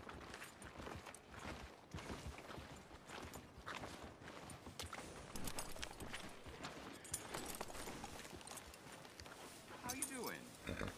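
Horse hooves clip-clop at a walk on a town street in Red Dead Redemption II, a steady rhythm buried in a dense mix of game music and ambience for the whole stretch.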